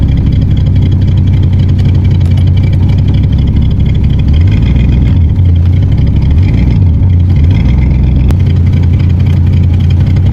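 A 1984 Corvette engine, being tuned, runs loudly up close, its rev wavering and dipping unevenly as it stumbles and catches before steadying again.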